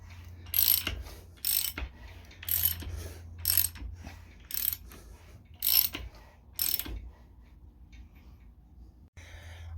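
A Honda Civic EK engine being turned over by hand after piston installation gives a regular series of about seven ratcheting clicks, each a short sharp mechanical burst, close and fairly quiet, then a brief trailing pause.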